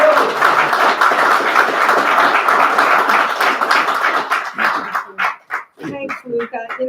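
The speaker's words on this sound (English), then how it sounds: "I want to give a great, great applause" A crowd at a live community event applauds a county supervisor, a loud sustained wash of clapping that thins and breaks into scattered claps and voices near the end.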